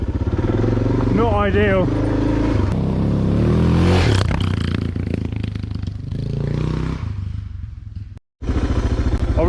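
A motorcycle rides through a rough ravine while camping, engine revving and rumbling close with scraping and clattering as the foot pegs drag on either side; a rider talks briefly over it.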